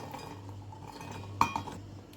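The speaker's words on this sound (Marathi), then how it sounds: "त्यामध्ये वाटाणे घालून घेऊया" Green peas drop into a steel mixer grinder jar with a sudden sharp clatter and a few rattling clinks midway, set against quiet kitchen background.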